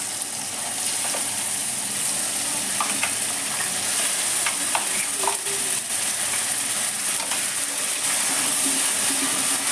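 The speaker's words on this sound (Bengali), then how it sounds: "আমি যে মিহি পেস্টটা বানিয়ে রেখেছিলাম সেই পেস্টটা এবার তেলের মধ্যে দিয়ে দেবো।" Finely ground spice paste sizzles as it is added to hot oil for a drumstick masala curry, a continuous loud frying hiss with occasional scraping and stirring clicks.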